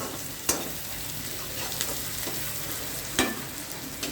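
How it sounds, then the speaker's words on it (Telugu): Ingredients for a bitter gourd pulusu sizzle steadily as they fry in a pan, with a couple of sharp spatula clicks against the metal breaking through the continuous hiss. "ఇదిగో ఈ విధంగా వేయించుకోవాలి"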